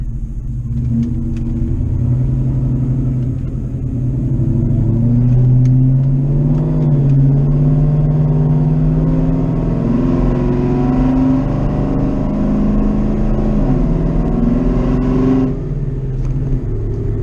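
A Ford Mustang 2V fitted with new 24 lb fuel injectors drives around the block, its engine a low steady rumble that rises and shifts through gears, heard from inside or close by, with no talking.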